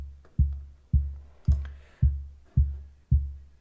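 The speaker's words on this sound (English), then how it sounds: "So to make the kick drum, I used two different samples from the orchestral part." A second kick drum made from an orchestral sample in Ableton Simpler thumps six times in a steady even rhythm, each hit a punchy low boom with a quick decaying tail, loud and alone.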